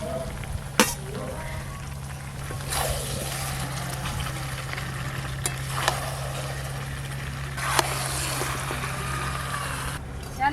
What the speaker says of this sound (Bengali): এবার ভেজে রাখা ব্রকলি দিয়ে দেব।